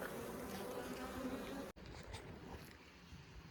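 Honeybees buzz around a beehive in a summer bee yard, a faint, continuous insect drone with a brief dropout partway through.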